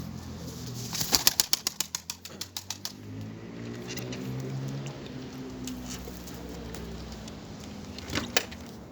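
Şakşak pigeons, red males, a female and young, burst into a rapid series of wing claps that slows and fades, then low cooing rumbles underneath, ending with another brief flutter of wings close by.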